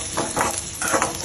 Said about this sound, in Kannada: ಗಾರ್ಲಿಕ್ ಫ್ರೈ ಮಾಡ್ತಿದ್ದೇವೆ ನಾನು.